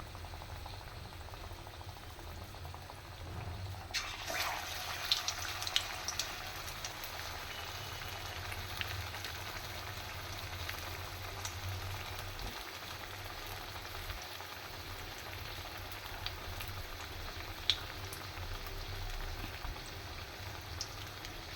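Tomato and egg chops coated in thick besan batter fry slowly in oil over low heat, making a faint, even bubbling hiss that stays soft and continuous, with a brief clatter near the start and no talk.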